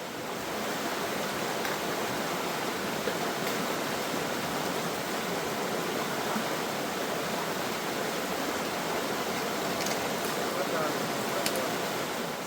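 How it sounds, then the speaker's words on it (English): Otter Creek rushing at a significant creek crossing in the Otter Creek Wilderness, West Virginia, a steady, loud broadband roar of flowing water that fills the whole stretch without a break. "we have one creek crossing that's pretty significant today, and it's coming right up. This will be Otter Creek."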